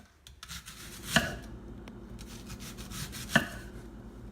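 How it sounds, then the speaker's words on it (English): A knife slicing an onion into rings for tinga de pollo, two distinct thuds against the cutting board with soft rubbing and cutting sounds between them, close and with no talking. "take our onion and we're gonna cut it in onion rings"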